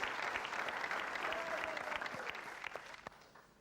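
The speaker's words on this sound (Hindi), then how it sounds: "जोरदार तालियां" Studio audience applause on a Hindi game show, a fairly faint, steady patter of clapping that gradually thins out toward the end.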